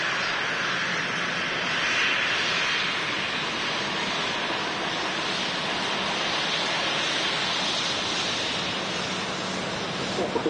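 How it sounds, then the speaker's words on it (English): A Jet2 Boeing 737 taxis onto its stand at Manchester Airport, producing a steady, broad engine roar with a hissing whine that holds evenly throughout, with no clear voices over it. "Mega shot on Matt Cam with the Jet2 73 pulling onto stand"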